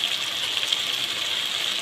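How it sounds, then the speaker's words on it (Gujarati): Water pours into a cooking pan of sautéed spices for Kathiyawadi cluster-bean curry, a steady, unbroken gushing stream at moderate volume. "પછી આમાં પાણી નાખીશું"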